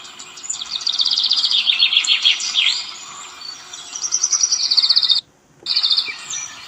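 An AI-generated birdsong effect with bright, repeated chirping phrases and trills, loud and steady, briefly cutting out to silence before resuming.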